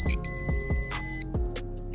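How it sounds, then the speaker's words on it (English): A multimeter's steady electronic continuity beep with a few sharp clicks as probes touch car wiring, then the tone cuts off near the end. "You want to hear that continuously beeping"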